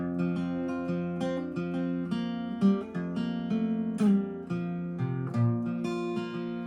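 Solo guitar plays the intro of a country song at regular speed, with clear picked notes and ringing chords in a steady rhythm, close and alone with no voice.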